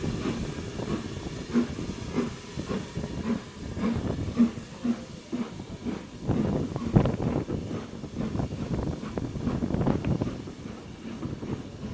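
Standard 4 steam locomotive 75078 rumbles and chugs, pulling passenger carriages out of Oxenhope station, with rhythmic pulses and hissing, heavy wind buffeting the microphone over the steady mechanical noise.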